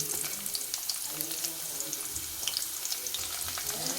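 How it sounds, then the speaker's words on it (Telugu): Onions frying in oil in a pan for a beans and tomato curry, a dense close sizzle with small pops and a few faint scrapes, no talking. "ఇప్పుడైతే మనం ఆనియన్స్ అయితే వేసుకుందాం"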